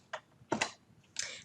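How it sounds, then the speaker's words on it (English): A few quick keystrokes on a computer keyboard while setting up Visual Studio 2019 for MASM assembly, three short soft clusters of clicks, close and quiet, with no talk. "I'm going to just very quickly type &sum."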